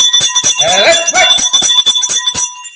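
A boxing ring bell is struck in a rapid series of bright metallic dings, about a dozen strikes close and loud, each ringing briefly into the next.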